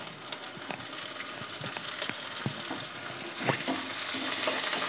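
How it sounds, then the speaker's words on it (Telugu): Dried prawns with gongura and coriander sizzle steadily in a pan, with spatula scrapes and light knocks punctuating the close, even frying noise. "కొత్తిమీర కూడా ఒకసారి కలిసి వేసి తిప్పుకుంటున్నాను"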